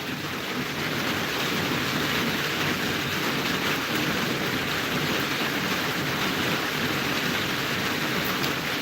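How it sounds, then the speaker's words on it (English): Steady rain falls outdoors as an unbroken, even hiss of dense drops, with no voices over it. "it's raining"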